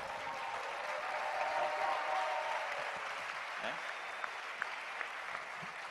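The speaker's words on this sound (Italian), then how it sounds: "un grande applauso al grande giornalista Mario Giordano" Sustained applause from a large audience at a political party rally for journalist Mario Giordano, a dense steady wash of clapping lasting several seconds with a voice faintly over it.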